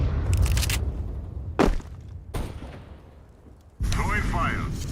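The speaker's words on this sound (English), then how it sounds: "Deploying flashbang" A flashbang grenade bursts in a Counter-Strike match with a sharp crack, followed by more short bangs and a harsh ringing burst near the end, heard over a steady background rumble.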